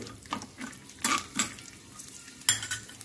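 Eight to ten garlic cloves fry in a pan, with a light sizzle broken by several sharp metal scrapes and clinks of a spatula stirring them, close and moderately loud.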